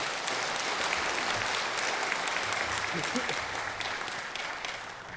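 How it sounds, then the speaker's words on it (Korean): Steady, dense applause fills a hall at an ordination vow ceremony, many hands clapping continuously at an even level and tapering slightly near the end, with faint voices mixed in. "여러분 다시 한번 정은수 교모에게 여러분 큰 박수 부탁드립니다"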